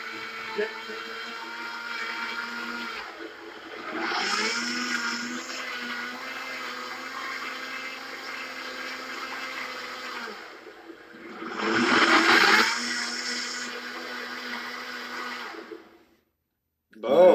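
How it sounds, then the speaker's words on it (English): A Brothers Ultra Blender runs for a long stretch, a loud steady whirring motor that surges and roars higher twice as the contents churn, then cuts off; someone talks over it. "we're gonna turn this on. Boom. So you got the Brothers Ultra Blender."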